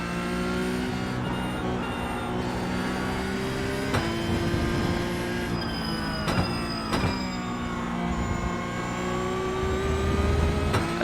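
A Porsche Cup race car engine in the iRacing sim at Road Atlanta drones steadily and loudly throughout, its pitch rising and falling with brief breaks at gear shifts, with no talk over it.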